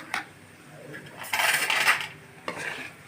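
Goat brain fry with pepper being stirred in a metal pan: scattered spoon scrapes and clinks, with a louder run of metallic scraping midway. The sound is close and there is no voice.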